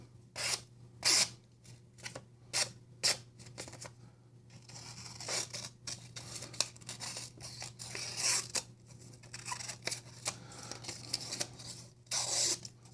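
A Heretic Magnacut Jinn slip joint knife slices through a small piece of paper, giving a series of crisp, close cutting and tearing rasps in short bursts with brief pauses between them.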